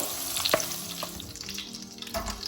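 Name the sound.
zucchini and potatoes frying in hot oil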